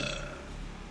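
A short burp played back by an Alexa smart speaker, a single near eructation lasting under a second with no talk over it.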